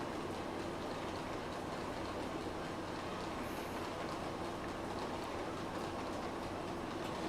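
A model train pulled by a locomotive runs steadily, a continuous rolling rumble with a soft rhythmic clatter of wheels on track, close by and unbroken, with no squeaking and no voices.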